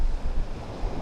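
Strong wind buffets the microphone beside Lake Manitoba, a brief burst of loud, rumbling gusts with no voices.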